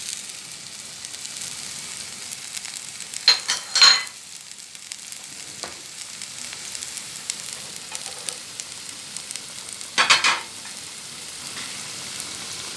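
Spices including black pepper, coriander, cumin, paprika, garlic powder and onion powder fry in a pan as a faint, steady sizzle, broken by a few brief louder hissing bursts, close and without talk.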